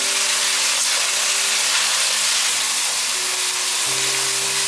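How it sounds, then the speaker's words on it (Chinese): Minced celery and ginger stir-frying in hot oil, a steady broadband sizzle that holds evenly throughout without pause, close and fairly loud, with no voices. "油热了之后，放入芹菜末和姜末。 把芹菜末和姜末炒香。"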